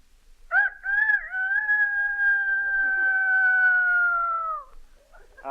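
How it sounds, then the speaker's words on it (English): A rooster crowing sound effect from a 1936 radio broadcast rings out as one long, sustained, clear crow that holds steady for several seconds before dropping off. "A rooster."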